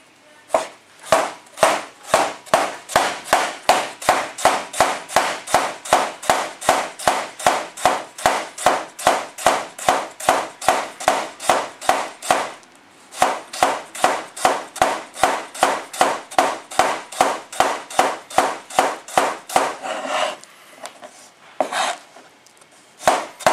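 A knife chops cucumber finely on a board in a fast, even run of sharp close taps, about two per second, with a brief pause midway and scattered softer knocks at the end; no talk.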